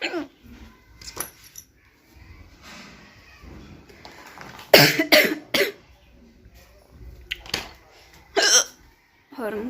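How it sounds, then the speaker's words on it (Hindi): Real hiccups from a woman who has just woken up, sharp bursts mixed with a few coughs, loud and close, spaced irregularly with quiet gaps between them. "बहुत परेशान करती है हिचकियाँ।"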